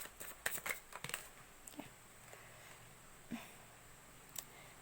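Tarot cards shuffled and drawn in short bursts of papery riffling and soft slaps, faint and close, with quiet gaps between.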